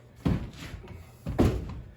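A pre-hung exterior door being set down and leaned against a wall during installation gives two dull, close thuds about a second apart over a quiet room.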